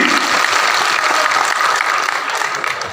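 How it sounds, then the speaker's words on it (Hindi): An audience claps steadily through a ceremony marking Sardar Patel's birth anniversary, loud and sustained, with no voices over it. "ताली।"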